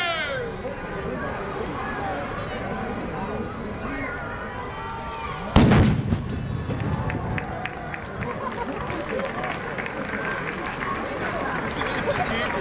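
An anvil battery salute fired in honor of the reigning monarch: one sharp, loud blast cuts through the steady murmur of a crowd, with people talking throughout.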